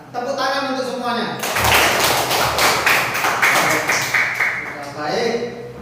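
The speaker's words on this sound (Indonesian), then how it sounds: "Tepuk tangan untuk semuanya" A classroom of children breaks into a burst of hand clapping, a dense rattle of many palms lasting a few seconds, framed by an adult voice talking before and after.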